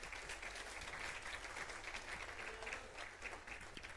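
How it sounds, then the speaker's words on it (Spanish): A church congregation claps together at a Bible study on Exodus, faint, even and sustained applause in a reverberant room. "dele palmas al Señor"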